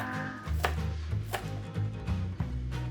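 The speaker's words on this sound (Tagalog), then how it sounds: "Hiwain din natin ng maliliit ang spring onion." A knife chops spring onion into small pieces on a board, sharp taps landing every half second or so, close and fairly distinct over a steady low background hum.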